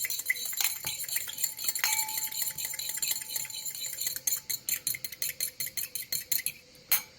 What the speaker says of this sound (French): Donc là je mélange avec ma fourchette.